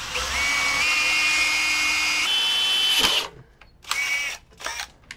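Slow, steady drill whine as holes are pre-drilled in a metal radiator skid plate with an oiled bit, running continuously for about three seconds, then stopping, followed by a few short clattering handling sounds.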